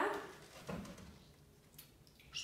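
A dog barks a few times, sharp and fairly close, with short yips in between and quiet room noise underneath.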